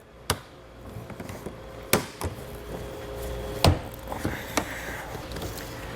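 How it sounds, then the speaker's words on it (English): Trim panel on a 2021 Tesla Model Y being pried loose with a trim tool, giving a few sharp plastic clicks and pops spaced irregularly over a low background hum, close and fairly quiet. "get in behind here with a trim tool, you can start to kind of pry this away"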